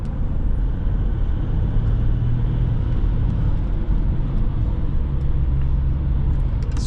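A 2006 Jaguar S-Type 2.7D V6 diesel drives through Istanbul, a steady low engine and road rumble heard from inside the car, continuous and fairly loud with faint traffic noise.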